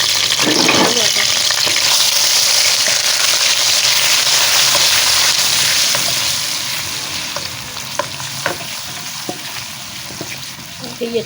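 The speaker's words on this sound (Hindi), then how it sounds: "इसमें सबसे पहले हम ये अदरक लहसुन का पेस्ट डालेंगे" Ginger garlic paste frying in hot oil in a kadai, a loud, steady sizzle that runs for several seconds and then quietens, with scattered stirring clinks near the end.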